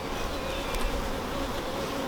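Honey bees buzz steadily around an open new hive during an inspection, a dense, continuous close drone with no speech.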